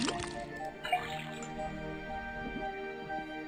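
Liquid from a tapped faucet dripping into a cauldron in the Detective Grimoire video game, a soft drip and squish near the start and again near the middle over a faint sustained musical tone.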